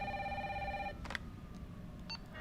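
A telephone rings in Resident Evil 3 Remake, a steady electronic trill that stops abruptly, followed by a couple of faint clicks and a brief chirp over a low background rumble.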